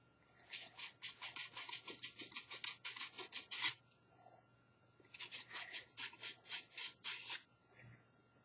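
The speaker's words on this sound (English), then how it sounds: "And we'll just kind of sand those away." Sanding away small attachment nubs produces two runs of quick, rhythmic, close scratchy strokes, roughly a dozen each, separated by a short pause. The sound is soft and clear, with no talking.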